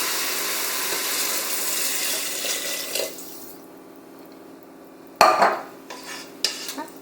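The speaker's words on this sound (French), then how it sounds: "Je rajoute le riz, le vin blanc, le cube et l'eau." Rice, white wine, a stock cube and water go into a Moulinex Cookeo pot for mushroom risotto: a steady rushing pour, then a sharp clatter and a few stirring knocks close up.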